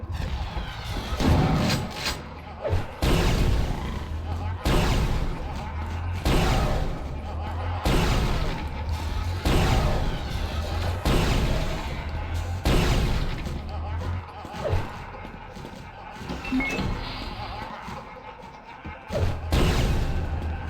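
Grenades explode again and again in the video game Quake 2, a series of loud booming blasts at a steady pace over continuous game music and other combat noise.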